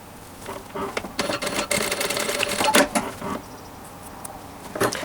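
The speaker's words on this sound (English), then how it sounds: "I'm going to fold it in half and I'm going to sew the edge" Sewing machine stitching along the folded edge of a T-shirt strap, a close run of quick mechanical stitching bursts with brief pauses between them.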